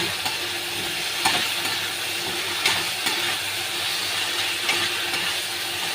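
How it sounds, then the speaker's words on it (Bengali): Potatoes fry in a hot pan with a constant loud sizzle, while a few sharp scrapes of stirring stand out at irregular intervals. "আলুটা দিয়ে ভালো করে কষে নেব"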